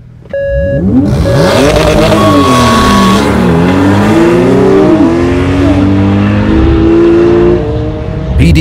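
A Porsche 911 Carrera S with dynamic chassis control drives hard through a track corkscrew, its engine loud and close, revs sweeping up and down through gear changes and shifts between left and right bends.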